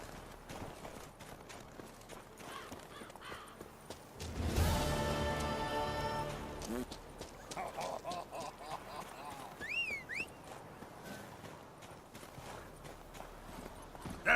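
A horse's hooves in The Witcher 3, a steady clip-clop of riding that swells into a louder rush of movement midway, with game music tones and ambient sound around it.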